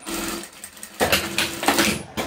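A sewing machine runs in short bursts, stitching scraps of blue and black fabric for a patchwork rag rug; a brief pause, then a louder stretch of rapid mechanical whirring and clatter close by.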